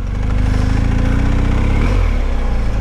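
Motorcycle engine running loud and steady, then dropping in pitch as the bike slows to a stop, with no talking.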